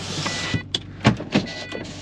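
Electric power windows on a Holden WK Statesman whir in several short, close bursts of motor noise, one after another, with no talk over them.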